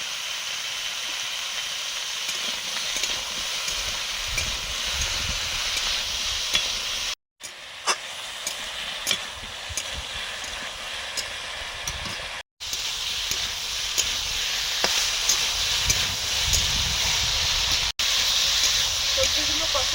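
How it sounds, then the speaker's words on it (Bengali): Vegetables, including ridge gourd and potato, fry in a pan at home. A steady, loud sizzle and hiss runs throughout, broken by two brief pauses and light clinks of stirring. "ভালো করে একটু ভেজে নেব সবজিগুলো।"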